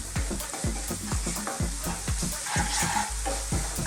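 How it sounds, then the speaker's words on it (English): Turmeric, chili, cumin and coriander powders are stirred vigorously in a hot pan for a vegan potato rice, with a steady sizzle under repeated rhythmic scraping strokes of the spoon, close and loud, with no talking. "Now keep stirring this vigorously at this point because we don't want our powders to burn"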